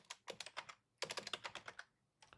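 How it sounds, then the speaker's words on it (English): Keys clatter on a computer keyboard as commands are typed into a robot control panel, two quick bursts of close, crisp clicks with a short pause between and a lone tap at the end. "we can just keep typing commands over and over again in this robot control panel"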